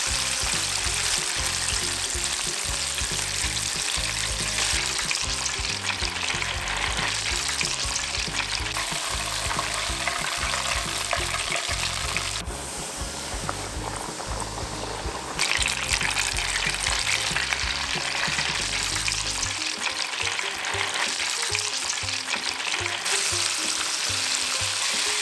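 Korean fried chicken pieces deep-frying in hot oil, a loud continuous crackling sizzle with bubbling and occasional stirring, steady throughout with no talk.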